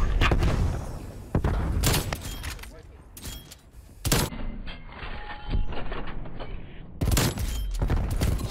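Incoming artillery strike in a multiplayer shooter game: several loud, sharp explosion bursts separated by quieter gaps, with rumbling debris in between and some voices speaking.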